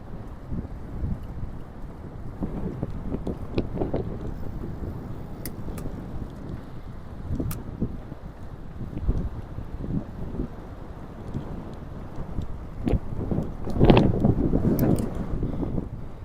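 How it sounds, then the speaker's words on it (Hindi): Strong wind blows outdoors in a mountainous valley in Lahaul, roaring steadily into the microphone with gusts swelling and buffeting throughout, loud and continuous. "तेज़ हवा चल रही है इस वक्त।"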